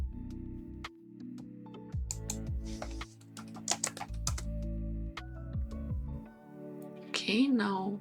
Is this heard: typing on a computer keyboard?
yes